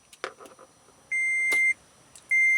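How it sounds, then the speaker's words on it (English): Toyota FJ Cruiser dashboard chimes sound as the ignition is switched on: a few soft clicks, then a sustained electronic tone and a second tone starting again, close and clear in a quiet cab. "I'll turn on the ignition."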